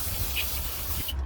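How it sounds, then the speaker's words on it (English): Lysol disinfectant is sprayed into the removed air vent tubes of a DeLorean under restoration, a single close, continuous aerosol hiss lasting about a second before it cuts off. "Put Lysol in there, okay."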